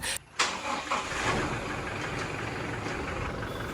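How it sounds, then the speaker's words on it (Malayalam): A Toyota Fortuner diesel engine cranks and catches after a brief pause, then settles into a steady, rumbling idle close by, with no voices over it. "ടൊയോട്ടൻ്റെ എല്ലാവർക്കും ഇഷ്ടപ്പെട്ട ആ ഒരു ഡീസൽ എഞ്ചിൻ്റെ ഒരു കിഡിലൻ സൗണ്ട് തന്നെ നമ്മൾ കേട്ടുകൊണ്ടിരിക്കുന്നത്"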